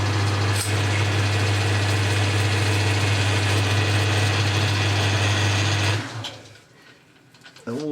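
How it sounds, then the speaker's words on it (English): Metal lathe with a tool cutting a chamfer on the end of a part: a loud steady machine drone with a low hum, which stops abruptly near the end and leaves faint handling sounds. "I've changed the tool just to put the chamfer on the end."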